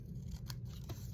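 Scissors cut a rectangle of paper for a junk journal, a quiet pair of brief crisp snips heard alone against low background hum.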